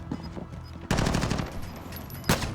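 Bursts of automatic gunfire from the video game Warzone played on an Asus ROG Strix G15 gaming laptop, a sudden sustained rattle of rapid shots followed by a sharper louder burst near the end, no talking.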